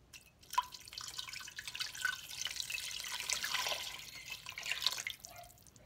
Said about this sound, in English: Now I'm just gonna put more water.